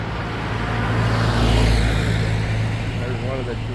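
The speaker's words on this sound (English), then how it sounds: "One of the dreaded Toyota vans." A Toyota van drives past on a road at a Philippine police checkpoint in Dauin, its engine hum swelling to a peak mid-pass and then fading, with steady traffic noise throughout.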